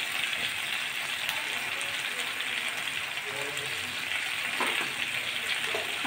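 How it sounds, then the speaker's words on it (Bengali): Oil sizzling steadily in a pan while potato and pointed gourd fry, a continuous bright hiss throughout with a few faint clinks, and a person speaking under it. "তেলে ফুসফুস করছে, তেলটা বেশি দেওয়া হয়ে গেছে।"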